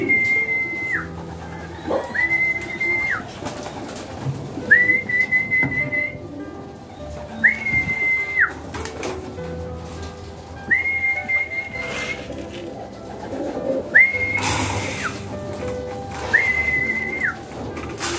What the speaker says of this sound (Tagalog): Pakainin muna natin mga kalapatids.